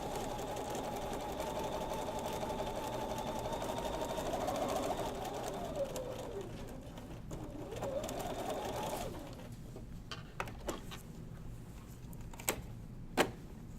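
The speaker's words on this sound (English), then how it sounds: "stitch down for 1/2 inch, go back to regulation, and sew down that other side." A sewing machine stitches down a men's shirt placket, running in a steady close whirring burst for about nine seconds and then stopping, followed by quieter clicks and handling noises, with no talk.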